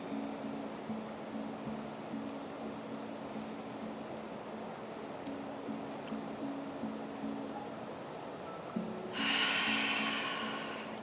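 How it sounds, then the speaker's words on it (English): Slow, quiet breathing during a gentle yoga session, with soft rushing inhales and exhales under a low hum. A brighter, louder breath swells near the end, with no speech. "Breathe."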